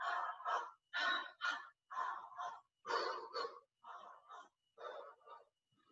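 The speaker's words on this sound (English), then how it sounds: "Big breaths." Deep, rhythmic breaths during a seated exercise, about nine or ten separate inhale and exhale bursts in steady succession, close and fairly quiet with no talk.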